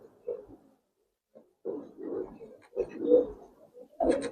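Pigeons at a farm of Giribaz coloring pigeons give soft, low cooing calls in short bursts separated by brief pauses, close by and fairly quiet.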